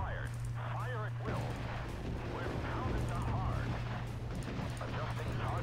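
Units fire weapons in the real-time strategy game Act of Aggression, with repeated artillery-like booms and gunfire rattling continuously under a constant low hum. A voice talks over the battle noise throughout.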